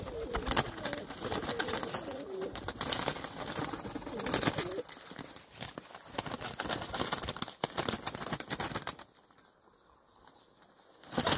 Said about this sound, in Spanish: Mira, paloma.